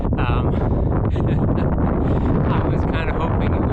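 Strong, steady wind buffets the microphone during an outdoor bike ride in the suburbs, a constant low roar throughout with some faint voice-like traces in it.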